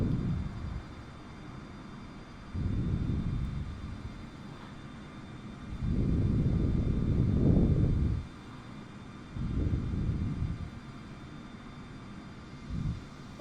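Airbus A320neo taxiing in Microsoft Flight Simulator, a low engine rumble swelling in several separate surges between quieter stretches, steady and fairly close.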